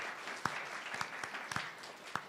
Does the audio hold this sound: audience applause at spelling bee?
yes